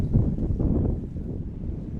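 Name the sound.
wind picking up before a storm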